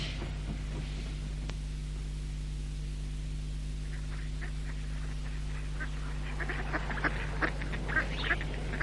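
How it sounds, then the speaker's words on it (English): Ducks on a freezing pond give a few faint, scattered quacks near the end, over a steady low hum. "It always amazes me how the ducks seem perfectly content in their freezing pond water."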